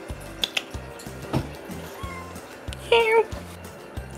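A cat meows a few times, short plaintive cries, close by over a faint rhythmic background hum and a quiet voice.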